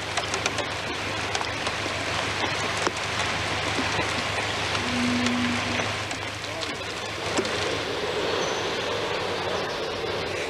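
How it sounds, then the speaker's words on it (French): Hailstorm at Thoiry, a steady dense patter of hail and rain on surfaces with a constant low hum beneath it, moderately loud and continuous throughout. "Ni même l'orage de grêle qui nous a surpris ce jour-là à Thoiry."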